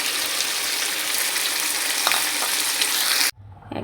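Chicken and bean seeds sizzle and crackle in a hot pan with occasional stirring scrapes, loud and steady, then cutting off abruptly near the end into a faint low hum.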